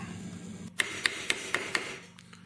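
A hammer strikes a wire ring on a metal mandrel five times in an even rhythm, with bright, close metallic taps over a quiet background.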